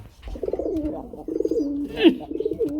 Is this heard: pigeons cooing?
yes